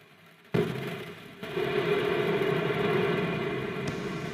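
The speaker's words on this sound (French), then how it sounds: "Allumage moteur Vulcain." An Ariane 5 Vulcain main engine ignites at lift-off: a sudden broadband roar bursts in, dips briefly, then swells into a sustained, heavy rumbling roar with a distant quality.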